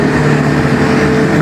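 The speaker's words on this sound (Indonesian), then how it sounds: "kondisikan suara knalpot di belakang kamu" Loud vehicle exhaust from a street nearby, a dense steady engine rumble filling the background without a break.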